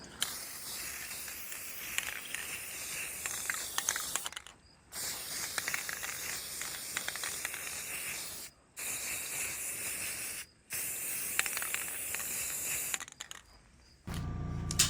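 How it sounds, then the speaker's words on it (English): Flat black Rust-Oleum 2X spray paint hisses from the can in several steady bursts separated by short pauses, close and moderately quiet, with no talk. "then I'm going to spray them black with the same 2-time flat Rust-Oleum spray paint"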